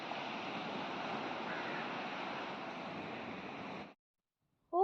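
Sea waves wash steadily onto a beach at dawn near a lighthouse, a broad continuous surf roar lasting about four seconds before cutting to silence, then a brief unrelated sound at the very end.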